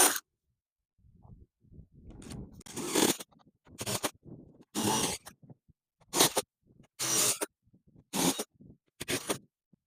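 Drilling corner holes with a 9/16 paddle bit, heard as about seven loud, separate bursts of a broad whirring bite, each lasting around half a second, with brief handling noise and pauses in between.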